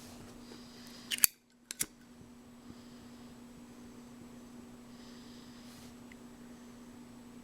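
Scissors cutting off excess lanyard cord on a waterfowl call lanyard: two crisp, close snips about half a second apart over a steady low hum, then quiet room tone, with no talking.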